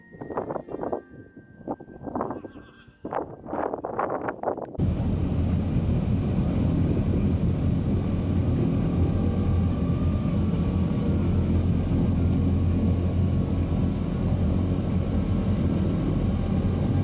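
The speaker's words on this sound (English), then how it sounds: "We taxi across the sand, hear the engine's note rise, climb out west before turning east to Glasgow." A propeller plane sits on the Barra beach runway. A close voice speaks over a quiet background, then the engine cuts in abruptly and holds a loud, steady drone.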